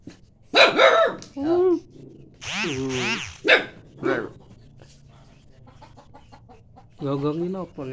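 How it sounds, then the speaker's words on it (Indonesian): A dog barks at chickens in a remote Javanese village, with loud harmonic squawks and barks in several short bursts, a gap of near quiet, then a sustained call near the end. "Enten ayam iki digonggongi."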